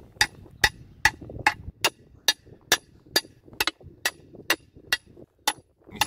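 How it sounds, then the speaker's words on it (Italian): A hammer drives a tomato support stake into garden soil, about a dozen sharp, evenly spaced knocks close by and moderately loud. "Adesso ci diamo il martello."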